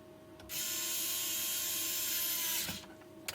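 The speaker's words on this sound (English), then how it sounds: "There's a bit of torque on that screwdriver" A power screwdriver drives a screw into a Doosan LPM-15N pallet truck with a single loud, steady whirring burst of about two seconds, starting and stopping abruptly, followed by a faint click.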